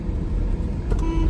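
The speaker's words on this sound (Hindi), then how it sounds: "हाँ बस संभाजी भाऊ की गाड़ी निकली अभी, भाऊ ने हॉर्न मारा।" A passing car gives a short honk at the end of a low traffic rumble, the horn brief and fairly close.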